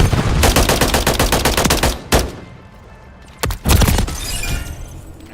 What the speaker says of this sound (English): Thermobaric going out!